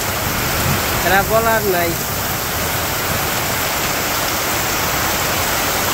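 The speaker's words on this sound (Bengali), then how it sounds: "কি পরিমাণ বৃষ্টি হইতেছে" Heavy rain pours steadily in a Bangladeshi village during the rainy season, a dense even hiss filling the whole stretch, with a brief spoken phrase near the start.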